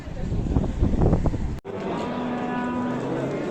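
Cattle at a busy Saturday livestock market in Gulakandoz, with a loud, close crowd murmur, then a sudden cut to a steady hum of distant animals and activity.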